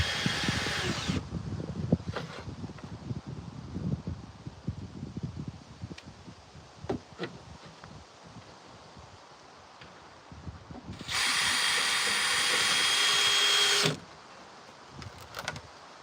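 A power drill drives oversized screws into the backside of a portable chicken coop, sounding in short bursts with one sustained whine midway, amid clatter and handling noise.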